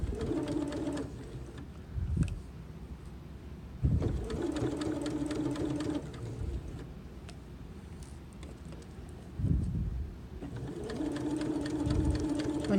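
A sewing machine stitches fabric on a zipper pouch with a steady close whirring run, pausing briefly a few times between stretches of stitching.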